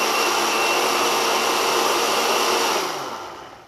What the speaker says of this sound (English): So I'm going to puree that again.